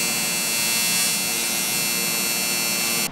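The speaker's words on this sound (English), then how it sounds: "So I'll weld this from the backside." A custom heat exchanger for a Honda chopper being welded from the backside: a loud, steady electrical buzz with a rich harmonic hum holds unbroken for about three seconds, then cuts off abruptly.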